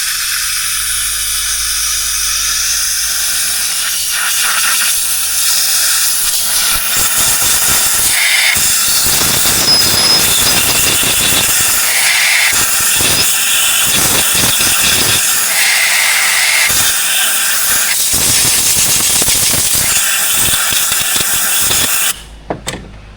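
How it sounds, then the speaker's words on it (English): Compressed air blasts oil out of a fuel injector hole in a GM 5.3 engine, making a loud, continuous rushing hiss that holds for about twenty seconds and then cuts off abruptly. "let's blow all that oil out of there"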